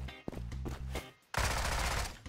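Gunfire from the online shooter Zula in a favela map: a burst of rapid shots first, then a dense, loud spray of automatic fire filling the second half.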